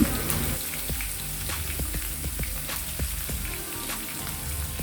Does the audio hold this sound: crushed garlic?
yes